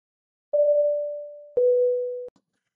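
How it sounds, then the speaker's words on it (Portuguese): A short electronic intro jingle made of two sustained steady tones, the second slightly lower, each ending with a sharp click, loud and alone, opening an episode about aircraft tire replacement. "então bora lá, solta a vinheta!"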